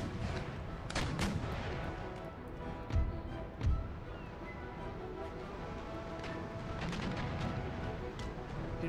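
Naval cannons in the Empire: Total War game firing round shot, with several heavy booming blasts and crackling volleys over a busy battle din.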